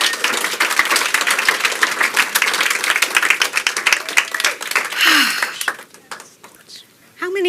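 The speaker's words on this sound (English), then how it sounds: "Can we get a round of applause, please?" An audience at a Pechakucha Night event in Bermuda claps in a lively burst of individual hand claps that thins to scattered claps, with a voice speaking near the end.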